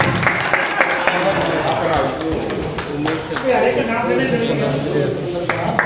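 Sustained applause from members at a welfare society's annual general meeting and election, steady and fairly loud, with voices talking over it throughout.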